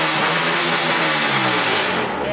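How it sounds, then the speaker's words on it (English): An Acura Integra with a Vibrant exhaust revs hard up to its rev limiter, giving a loud, close, sustained engine roar through the exhaust. "It'll hit the rev limit."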